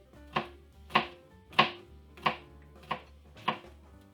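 A knife chopping zucchini and peppers on a cutting board, seven evenly spaced sharp thunks about half a second apart, close and clear.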